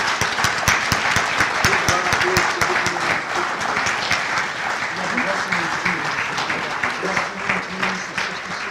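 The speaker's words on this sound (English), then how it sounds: "If you would, please give them a round of applause right now." A crowd applauds at an athletic Hall of Fame induction ceremony at Mynderse Academy, with sustained dense clapping throughout and voices mixed in under it.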